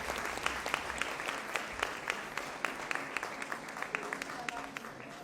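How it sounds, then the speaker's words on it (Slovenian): An indoor audience at an acrobatic rock and roll dance tournament in Vrhnika claps steadily, dense applause with a few sharp individual claps standing out, a voice faintly beneath. "Še en aplavz in hvala lepa."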